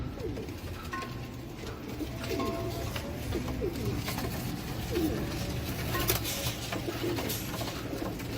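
Dub pigeons, male and female with young, coo softly in a low, repeated throbbing over a steady background hiss, nearby and without talk.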